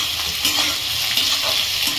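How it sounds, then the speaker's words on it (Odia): Onions for chicken masala frying in a hot pan with whole spices, giving a loud, close, continuous sizzle with stirring scrapes. "ଏବେ ପଡ଼ିଲା ପିଆଜ।"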